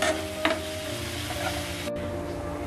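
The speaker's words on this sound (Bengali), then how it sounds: "এইটা আমি এখন একটু ভেজে নিব মশলাটা।" Whole cloves and white cardamom pods fry in hot oil at the start of a beef-brain bhuna. A close, lively sizzle runs throughout, with a brief stirring scrape near the start and no speech.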